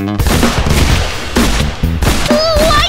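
Rapid bursts of revolver gunfire from a Minecraft game, loud and close, with sharp repeated shots mixed with game effects and music-like tones.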